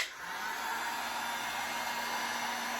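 A hair dryer blows on a painted mesh Halloween stencil, a steady, close airy whoosh with a faint motor hum that runs unbroken from start to finish, with no talking.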